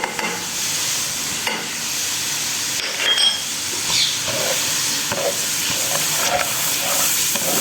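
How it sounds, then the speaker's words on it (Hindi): Green chillies tossed into frying masala give a moderate sizzle with intermittent stirring scrapes and clinks of a utensil against the pan, no voices present. "हरी मिर्चें डाल दूँ।"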